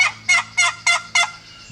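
An old HS Strut wooden box call scraped into five evenly spaced, raspy turkey-hen yelps, loud and close, imitating a turkey with no other sound around it.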